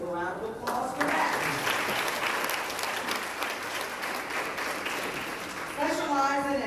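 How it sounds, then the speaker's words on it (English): A round of applause from a conference audience, a full, steady spread of clapping that carries on throughout, with a speaker's voice coming in over it near the start and again at the end. "Let's give a round of applause for that."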